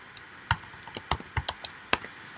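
Keystrokes on a computer keyboard as terminal commands are typed, about eight irregular sharp clicks spread over a couple of seconds, close and fairly quiet, with no talking.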